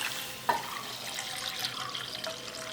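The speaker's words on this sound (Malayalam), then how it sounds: "1/2 ലിറ്റർ പാല് ചേർക്കാം." Half a litre of milk is poured into a pan, a faint, soft liquid splash that starts with a small knock and then trickles quietly.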